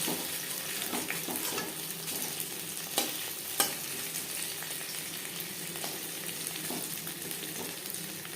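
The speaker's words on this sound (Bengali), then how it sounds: "অপর সাইডটা উল্টে দেবো কখনোই হাই ফ্লেমে ভাজতে যাবেন না" Masala fish fries in a pan over low flame, a continuous crisp sizzle of oil with a couple of sharp pops and light scraping clicks, close and steady throughout, with no talking.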